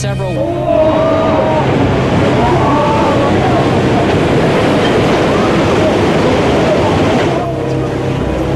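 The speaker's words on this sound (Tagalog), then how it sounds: "Tatlumpung talampakang tsunami ang humampas sa dalampasigan na kasing taas ng 3 palapag na gusali." A thirty-foot tsunami, as tall as a three-story building, crashes onto the shore in a loud, unbroken roar of surging water with heavy wind buffeting throughout.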